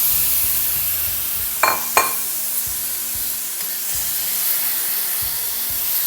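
Boneless chicken pieces in olive oil in a pan, a steady close sizzle and hiss running throughout, with two sharp louder bursts early on as pieces hit the hot oil.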